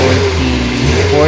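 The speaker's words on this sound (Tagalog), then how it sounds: "Umandar na yung ating makina" A car engine running steadily after starting, with a continuous low hum and a slight rise near the end, heard close during a fuel pressure check on a vehicle without a Schrader valve.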